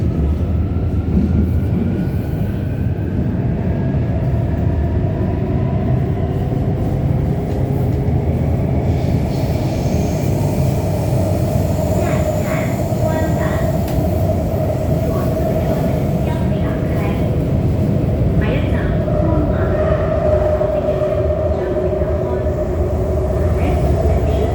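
An older-generation Shenzhen Metro Line 4 train runs with a loud, steady rumble and droning whine from its traction motor, rising and falling in pitch, continuous throughout.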